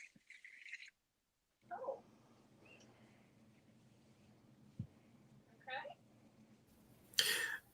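Pet birds chirp in short, scattered bursts over a quiet home background, faint and intermittent, with a brief louder call near the end.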